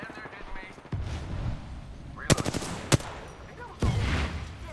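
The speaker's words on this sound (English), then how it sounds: "My teammates absolutely shooting the shit out of enemies" Gunfire from teammates shooting at enemies in the video game Apex Legends, several sharp bursts and single cracks over a constant rumbling game background, with voice activity detected.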